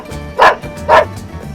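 A dog gives two loud, close woofs about half a second apart, each one short and sharp against a quiet background.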